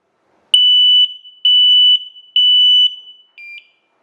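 A WisuAlarm SA30A smoke alarm emits loud, piercing electronic beeps while being paired: three long tones, then a shorter fourth, close up with no talk.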